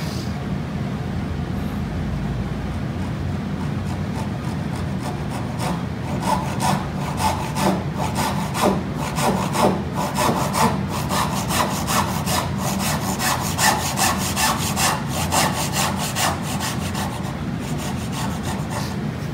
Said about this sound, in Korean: 여기서 이제 톱을 넣다 보면